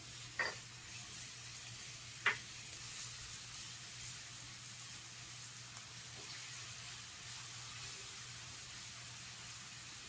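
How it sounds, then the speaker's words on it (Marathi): Ginger, garlic and green chili paste fries in a pan for prawn rice, a soft constant sizzle under two brief clinks of a stirring spoon, quiet and close. "आलं, लसूण, मिरचीची जी आपण छान खरडा मारून घेतलेला आहे तो घालणार आहोत. आता तो पण छान हलवून घ्यायचा ह्याच्यात."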